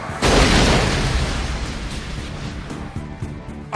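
A heavy anime fight impact from a wrestling power bomb lands as one loud, booming crash. It trails off into a long, rumbling decay.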